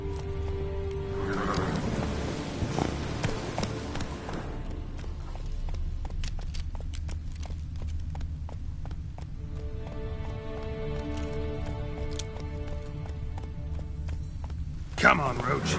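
Geralt's horse Roach in the video game The Witcher 3, with hooves clip-clopping and galloping at a steady rhythm, a whinny near the start and a sharp thump near the end, under game music and a voice.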